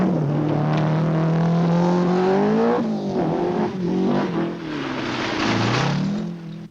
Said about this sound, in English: Tony Pond's Opel going well among the leaders.